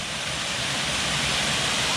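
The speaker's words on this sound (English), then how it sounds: "all these waterfalls are just spectacular" A waterfall on the Van Hook Falls trail after rain roars in a steady, dense broadband rush, close and loud, with no break.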